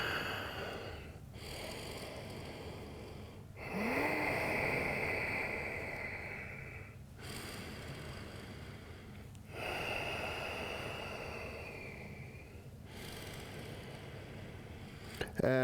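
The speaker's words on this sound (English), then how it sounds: "Take 3 breaths in low lunge." Slow deep breaths held in a yoga low lunge: long breathy inhales and exhales in a steady rhythm, close and clear over a low background hum, with faint voice sounds in between.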